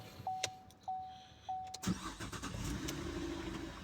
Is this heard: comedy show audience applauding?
no